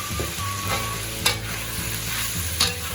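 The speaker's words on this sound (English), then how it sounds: "And stir it for a bit." Chicken with oyster sauce and brown sugar is stirred in a hot pan, a steady loud sizzle of frying with utensil scrapes and two brief sharper clanks, no voices.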